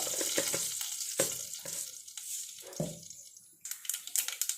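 Mustard and fenugreek seeds crackle and pop in hot oil, a busy close sizzle with sharp irregular snaps, quieting briefly before a fresh burst of popping.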